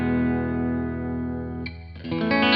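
Knoxville Select T-Style electric guitar on its bridge pickup, position 3, through an amplifier with overdrive and effects: a sustained chord rings out, then fresh notes are struck and ring on, close and loud.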